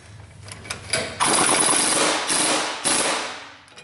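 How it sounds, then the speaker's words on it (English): A loud, harsh pneumatic air hammer with chisel bit on a Chevy/GMC front wheel bearing hub assembly, rapid rattling impacts that swell and hold for a couple of seconds before cutting off, close by. "I'm gonna go get the air hammer and chisel bit and come over and go bananas on this thing"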